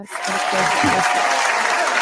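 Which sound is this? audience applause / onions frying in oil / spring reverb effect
audience applause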